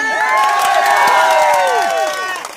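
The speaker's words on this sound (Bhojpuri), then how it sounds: "यह है 3 बजे से 6 बजे के शो के मेरे भोजपुरी भाइयों के लिए जोरदार ताली" A cinema audience at a Bhojpuri film screening erupts in loud, sustained cheering with shrill whistles and clapping, a dense crowd roar that fades slightly at the end.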